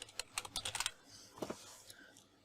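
Rapid keystrokes on a computer keyboard, a quick burst of clicks followed by a few scattered taps, close and fairly quiet in a still room.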